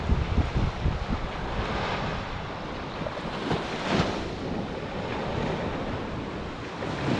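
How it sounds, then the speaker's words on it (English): Ocean waves break and wash up on the sand at Panama City Beach, a loud continuous surf roar with wind buffeting the microphone and no voices. "Waves are coming up."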